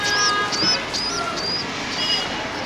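A pigeon chick making repeated soft cooing and whistling calls close by, about five short calls over steady outdoor background noise.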